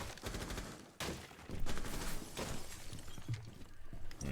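A glass barricade shatters in a tactical shooter game, with several sharp breaking cracks and bursts in quick succession over a busy, close background of game noise.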